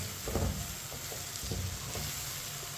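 Seviyan vermicelli mixed with vegetables is stirred in a hot pan, giving soft scraping strokes over a steady close sizzle of frying.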